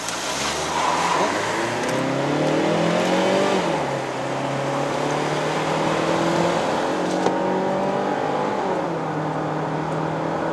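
A 2013 Mazda CX-5 with the 2.0L engine and two-wheel drive accelerates at full throttle on a mountain road, its engine note rising and climbing steadily through gears, loud and close from inside the cabin.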